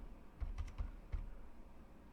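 Light typing on a computer keyboard while entering a bill number into a retail store management form: a handful of soft, close key taps in a short irregular burst, then quiet.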